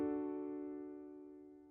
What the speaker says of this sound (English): The patch is just called soft piano, and I have a little low pass on that.